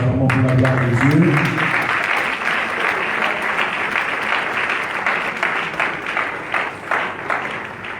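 Church congregation applauding loudly and continuously at a funeral wake, dense clapping with cheering voices, a brief sung or spoken phrase at the start.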